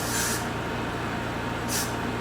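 Hair spray from an aerosol can misted onto the front of a closure wig, two short hissing bursts near the start and end over a constant steady hum.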